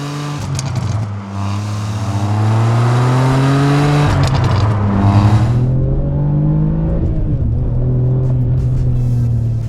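A Ferrari 575M engine roars as the car accelerates, its pitch climbing smoothly, then dipping during slow, drawn-out shifts of the automated single-clutch gearbox before rising again, loud and close from inside the car.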